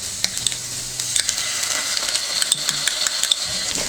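Onion, garlic and tomato paste frying together in a pan, a steady soft sizzle with light scraping and clinks of a utensil stirring, close up and without talk.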